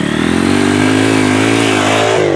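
A dirt bike engine revs hard and steadily in first gear, a loud, close buzzing drone holding high RPM without letup for a couple of seconds, with no talk over it.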